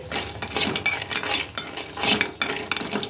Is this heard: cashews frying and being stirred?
yes